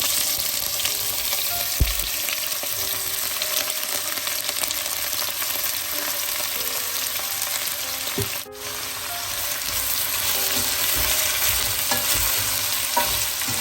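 Sliced onions with fennel seeds and mustard seeds frying in hot oil in a pan, a steady broadband sizzle running unbroken and loud, with a brief dip partway through and no voices.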